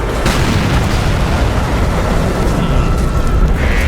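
A tank gun fires an explosive round in a tank video game, a loud, close boom with a burst and rumbling tail filling the whole stretch, with no other sound standing out.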